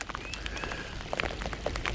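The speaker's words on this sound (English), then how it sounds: "Here comes the rain." Rain beginning to fall on a crappie fishing trip, a steady close patter of drops hitting water and surfaces with scattered sharper taps.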